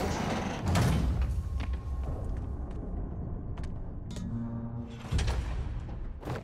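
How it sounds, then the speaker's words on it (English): In Marvel's Spider-Man, a heavy trap door grinds and scrapes open with low rumbling, thuds and metallic knocks, fairly close, with a couple of sharper bangs near the start and end. "You were right, Jeff. Trap door."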